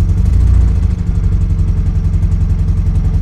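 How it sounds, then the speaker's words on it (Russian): A motorcycle engine runs steadily at idle with a fast, even ticking pulse from the exhaust muffler, loud and close with no voices over it. "Что за звук такой интересный? Глушитель, что ли, как будто сечет?"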